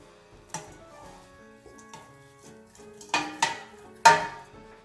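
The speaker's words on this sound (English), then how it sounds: "I chopped up my 2 onions. Now I'm gonna put them in the pot." Two chopped onions tumble into a cooking pot for turkey chili, giving a few sparse taps followed by clustered bright clatters and knocks against the metal, close and fairly quiet.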